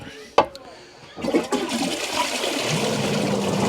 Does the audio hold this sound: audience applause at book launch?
no